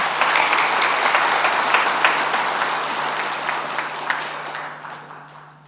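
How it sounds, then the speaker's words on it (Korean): An audience at a Buddhist temple dharma talk breaks into warm applause welcoming a visiting guest, a close, dense clapping that gradually thins and fades out toward the end. "큰 환영의 박수를 보내주시기 바랍니다"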